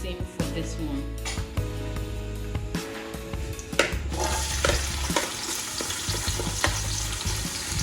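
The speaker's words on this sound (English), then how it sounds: "In goes our onions and ginger and garlic, fresh pepper," Onions, ginger and garlic fry in a pan for pineapple rice, a steady sizzle with clattering stirring strokes and spoon knocks, loud and close, with a voice talking over part of it.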